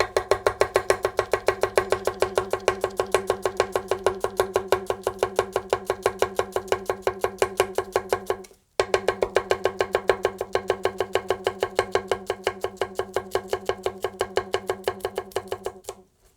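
A Mac MTH80 chef's knife finely julienning onions on a cutting board for smash burgers: rapid, even, close chopping strokes in a continuous rhythm, with one brief pause midway before the cutting resumes.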